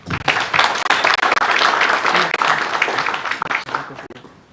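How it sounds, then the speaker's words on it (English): An audience at an agricultural data platform launch applauds for several seconds, loud, close clapping that swells and then fades out, with some voices mixed in. "Please can we clap for them?"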